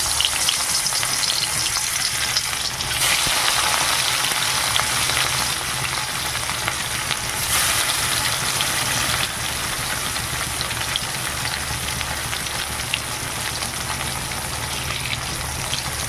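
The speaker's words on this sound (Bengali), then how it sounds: "কড়াইয়ের তেলটা খুব সুন্দরভাবে গরম হয়ে গেছে এবার আমি মাছগুলোকে দিয়ে দেবো" Rohu fish pieces fry in hot oil in a wok, giving a loud, steady sizzle with crackling spatter that runs the whole time, with no talk.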